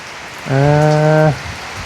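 Heavy storm rain hisses steadily and evenly, with a short, loud tonal beep rising over it midway before the rain continues alone.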